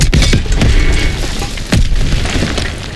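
A Panzerschreck rocket bursts in a Call of Duty World War II battle, giving a loud, close boom with a heavy low impact. Smaller pops and rumbling debris follow, and no voices can be heard.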